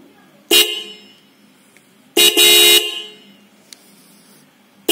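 Roots Vibromini horn fitted on a Honda Unicorn motorcycle blasts twice, a short honk followed by a longer sustained one, loud and close with quiet between.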